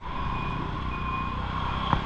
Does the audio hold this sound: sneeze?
no